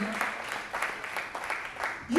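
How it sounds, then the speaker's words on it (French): A congregation claps for Levi during a bilingual French-English sermon, scattered, uneven bursts of applause from a small group, fairly faint, with speech nearby. "Applaudissez pour Lévi."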